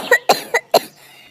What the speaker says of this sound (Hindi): वो खांसने लगता है।